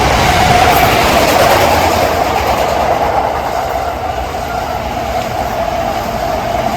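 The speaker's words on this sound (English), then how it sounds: "So now the train is coming from the Tokyo direction toward the Kawasaki." A JR Tokaido Line train runs past close by toward Kawasaki, giving a loud continuous rumble with rail clatter and a faint high screech that eases slightly toward the end.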